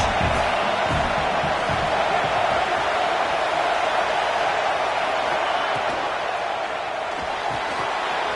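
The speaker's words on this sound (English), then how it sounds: "this crowd is turning it up a notch." Steady roar of a stadium crowd in a college football video game featuring Michigan, a dense continuous wall of cheering that holds loud throughout, with no distinct single voices.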